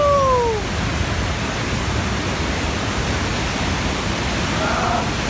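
Air Terjun Dalam waterfall near Danau Gunung Tujuh on the Sungai Dalam river roars as a steady, loud, broadband rush of falling water that fills the whole span without a break.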